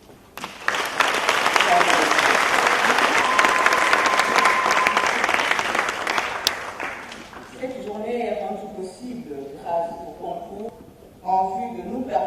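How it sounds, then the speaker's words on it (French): Sustained audience applause in a hall during a formal session, loud and steady for about six seconds before fading, then a voice begins speaking over the quieter room. "Je vous prie de l'applaudir."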